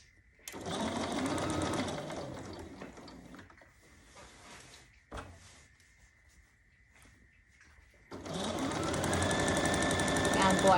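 A sewing machine stitches the side seam of a half apron in two sustained runs of rapid, even whirring, one at the start and one at the end. A quieter stretch with handling noises sits between the two runs.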